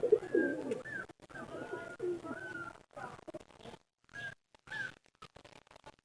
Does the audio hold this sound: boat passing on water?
no